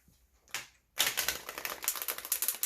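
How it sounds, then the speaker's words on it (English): A tarot card deck is riffle shuffled, giving one short flick and then a dense, crisp burst of rapid card snaps that fades off at the end, close up and with no voices. "So I'll just give it a quick riffle so you can see."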